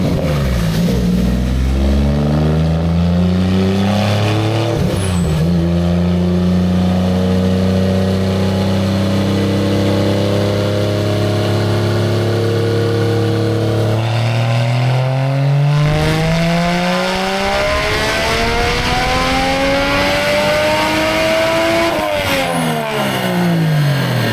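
A car engine on a dyno climbs in a full pull toward 6000 RPM, a loud, steady rising roar through several sweeps and shifts, sustained and close without speech.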